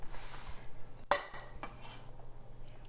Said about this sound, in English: So we'll just grab a frying pan here.